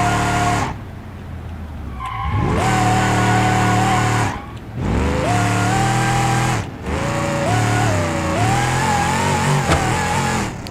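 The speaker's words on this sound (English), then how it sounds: "Doesn't this vehicle sound good though?" A video game car with over 2,000 horsepower drifting, its engine revving high and rising in pitch, dropping briefly at shift points, with tires squealing loudly throughout.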